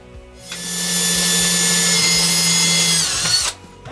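A power drill whines loudly and steadily for about three seconds, starting and stopping abruptly, with a strained grinding tone as it bores into a cabinet in a 2023 Airstream Caravel 20FB trailer.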